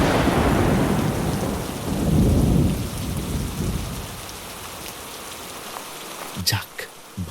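Heavy rain pours steadily in a Bengali village during the monsoon, with deep rolling thunder rumbling through the first few seconds before the downpour eases to a quieter patter and a few sharp sounds near the end.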